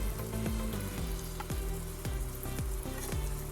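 Garlic tipped into a hot pan for a turkey pot pie sizzles and crackles steadily and close, with scraping stir strokes repeating about every half second.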